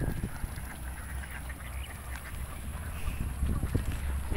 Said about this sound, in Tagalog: Kaya yung mga itik ay uuwi na.